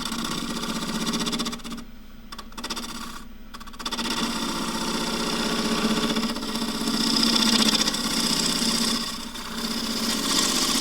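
A wood lathe spins a very dry Tasmanian eucalypt burl as a half-inch spindle gouge trues it. A steady motor hum runs under a rough, intermittent scraping of the tool on the uneven wood, with two brief breaks early on.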